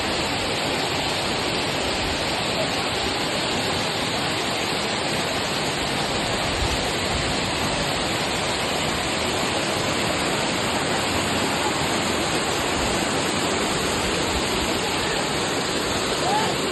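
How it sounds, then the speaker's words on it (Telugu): A waterfall near Araku roars close by as a dense, continuous rush of falling water, loud and unchanging throughout with no other sounds standing out. "వాటర్ ఫాల్స్ దగ్గరికి అయితే వచ్చేసాం."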